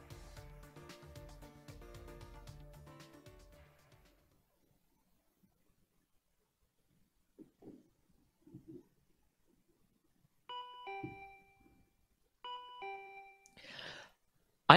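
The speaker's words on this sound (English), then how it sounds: "I am so bad at answering the doorbell." A doorbell rings in the video game Danganronpa V3: after a stretch of fading music and near silence, two short, clear chime tones sound a couple of seconds apart, followed by a brief rustle.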